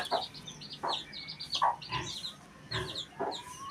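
A brooding hen clucks in a series of short, repeated calls spread across a few seconds, with chirps from chicks above and a faint low background hum throughout.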